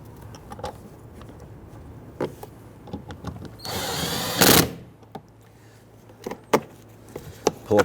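A power tool drives the lower mirror bolts on an Infiniti G37, giving one short whirring burst of just under a second amid scattered faint clicks and handling knocks.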